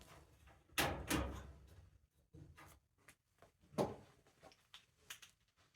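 An LG dryer's top panel is fitted back on, latching on both sides and sliding down in a quick run of close, sharp plastic-and-metal clicks and knocks.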